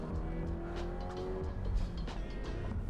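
Subaru BRZ tS on wider, grippier tires driving on canyon roads, a steady engine drone with tonal harmonics and road rumble heard from inside the car, fairly quiet and even without speech.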